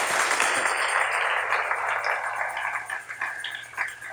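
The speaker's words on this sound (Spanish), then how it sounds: "Démosle palmas al Señor en esta hora." Dense, continuous clapping from a church congregation, loud at first and thinning slightly toward the end, with no voices over it.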